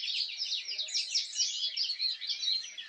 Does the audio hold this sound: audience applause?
no